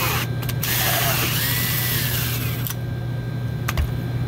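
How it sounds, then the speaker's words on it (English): A power drill bores slowly and steadily through the ceiling panel of a walk-in cooler during a retrofit. The grinding whir holds continuously at close range, with a constant mechanical hum underneath. "When I'm drilling, I go slow,"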